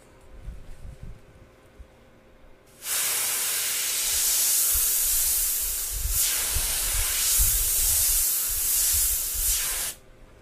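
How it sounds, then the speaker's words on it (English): A can of compressed air sprays at low pressure, a loud continuous close hiss that starts abruptly, runs about seven seconds with slight surges, then cuts off sharply. "Now we'll look at even lower pressures coming from this can of compressed air."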